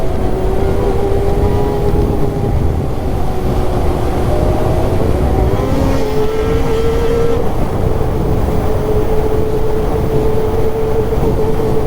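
A Boost Assault off-road vehicle driving at high speed, a loud, continuous close roar and rumble with a rising and falling engine whine carried over it, steady for the whole stretch.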